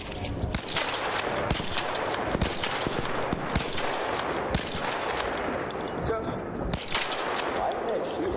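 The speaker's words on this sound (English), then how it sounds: "Why are they shooting?" Dense, rapid gunfire crackles through a chaotic Arc Raiders firefight, with repeated sharp shots and bursts stacked over a steady roar of game noise and occasional voices.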